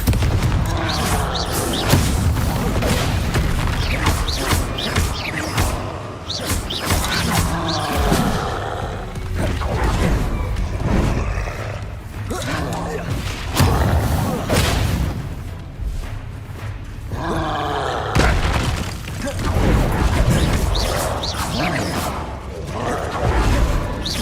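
Bombarda and Confringo spell explosions in Hogwarts Legacy, a run of loud booms and bursts going off repeatedly in irregular clusters over a rumbling background.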